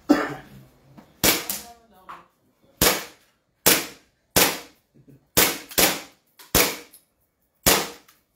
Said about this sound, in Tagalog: Makita natin na mag-open bolt. Sure, firing ulit. Again.